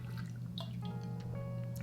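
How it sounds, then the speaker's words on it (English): Small drips and liquid trickles from a sip of water, soft and close against a steady low background hum, with no talking. "sip of water real quick"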